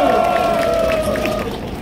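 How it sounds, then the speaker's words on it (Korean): A crowd at an outdoor patriotic rally gives a burst of applause and cheering, a continuous mass of clapping that slowly tapers off, while a sustained voice rings out above it. "박수 한번 보내주십시오"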